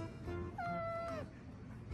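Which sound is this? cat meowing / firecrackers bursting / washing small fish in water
cat meowing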